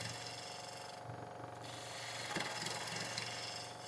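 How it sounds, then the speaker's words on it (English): Bowl gouge taking a fast shearing cut on a wood lathe while turning a decorative spire, a steady close scraping hum of wood being cut over the motor drone, swelling briefly near the end. "You use the bowl gouge in a shearing cut."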